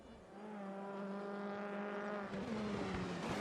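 Race car in RaceRoom Racing Experience lapping a track, a single engine holding a steady buzzing tone that slowly rises in pitch as it accelerates, moderately loud and alone.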